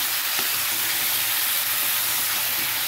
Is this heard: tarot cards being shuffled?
no